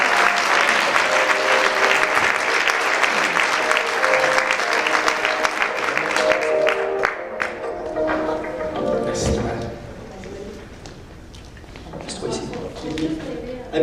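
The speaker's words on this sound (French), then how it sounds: "Une bonne main d'applaudissement pour Geneviève Morel." A talk-show audience breaks into sustained, full applause that gradually tapers off into scattered claps, footsteps and murmured voices.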